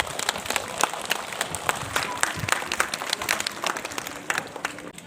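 An audience claps at a school half-yearly examination result ceremony, with the applause running steadily and moderately loud through a short stretch, individual hand claps standing out within the crowd.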